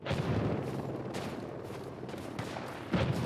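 Gunfire crackles in the military shooter game Project Reality, dense overlapping shots and distant bursts filling the whole stretch, with a louder volley near the end.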